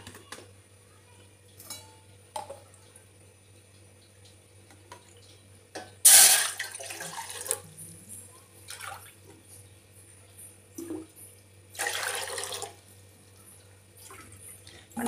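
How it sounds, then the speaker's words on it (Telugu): Water is poured into a cooking pot for semiya payasam in a home kitchen, heard as a short splashing burst followed later by a second pour, with light clinks of utensils and quiet gaps between. "ఒక గిన్నె పెట్టుకొని ఈ గిన్నెలో 3 కప్పులు వాటర్."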